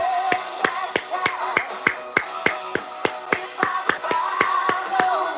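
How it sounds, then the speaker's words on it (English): A small group claps in a steady, even rhythm, about three sharp hand claps per second sustained throughout, close and fairly loud over a faint background murmur. "we give them the clap"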